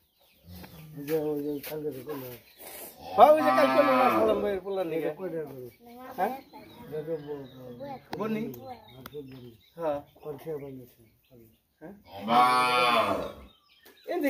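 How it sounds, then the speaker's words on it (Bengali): Village cattle being gathered for sale at a market moo loudly and repeatedly nearby, long drawn-out calls rising over a steady murmur of people talking and some background farm-animal noise. "এই গরুগুলো আজকে হাটে যাবে"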